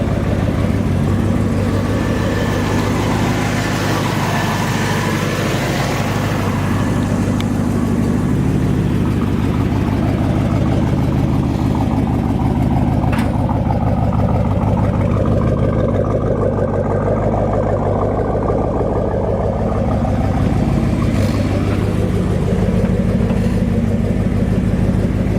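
A 1970 Chevrolet Chevelle SS with its original 396 V8 and automatic transmission, driving steadily with a continuous deep engine rumble and road noise heard from inside the car, with gentle rises and falls in revs.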